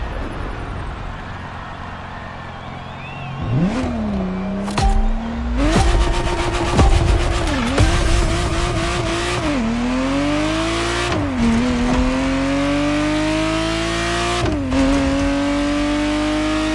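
A Ferrari Testarossa engine in the video game The Crew Motorfest revs up hard through repeated gear shifts. Each climbing wail is cut by a brief dip at the shift, loud and close throughout.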